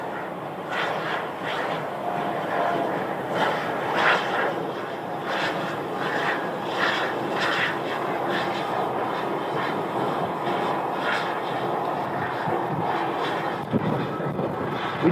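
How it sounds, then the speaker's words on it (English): A Delta Airbus A321 arriving at Phoenix Sky Harbor, heard as a steady, broad jet roar that holds for the whole stretch at a moderate distance, with no talk over it. "And we have a Delta arrival. And this is an Airbus A321."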